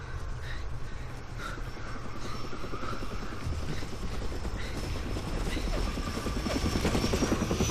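Gunship helicopter in the video game Far Cry Instincts, a steady, loud rotor drone that holds throughout with chopping pulses, a few sharp high calls and scattered clicks above it.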